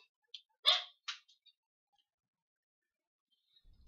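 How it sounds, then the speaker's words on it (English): A dog barking excitedly in a quiet room, a few quick sharp barks grouped close together, then silence and a faint scuffle at the end, moderately distant with no speech. "my dog was going pretty nuts"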